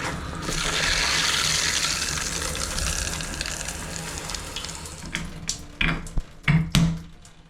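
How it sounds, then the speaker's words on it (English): Water rushes steadily from a tap for several seconds, then tapers off into a few scattered splashes and clunks. "let's go turn the water on"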